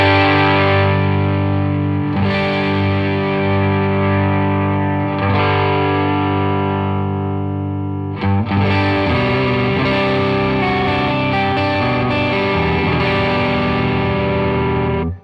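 Electric guitar played through an overdrive pedal as its drastic tone knob is swept, with several sustained distorted chords and riffs that grow noticeably brighter and crunchier after midway; loud, close, no voices.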